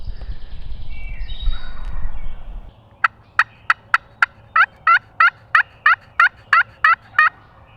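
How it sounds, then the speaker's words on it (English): A wild turkey gobbles repeatedly at fairly close range outdoors, about a dozen sharp, evenly spaced gobbles in a quick series after a brief stretch of low rumbling background. "there's a turkey. He's gobbling pretty close, just right over there."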